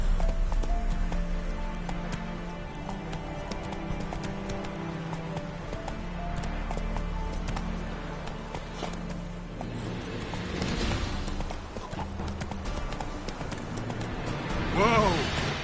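Hooves clip-clop steadily as a horse trots along, the rhythmic beat continuing throughout at moderate distance, with a brief voice near the end.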